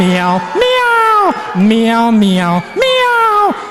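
A human voice imitates a cat, drawing out three loud, sing-song meows one after another.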